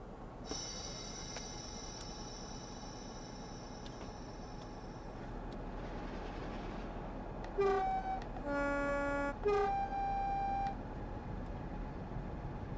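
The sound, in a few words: steam locomotive horn in Blackpool Branches train simulator video game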